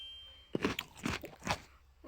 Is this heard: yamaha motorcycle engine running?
no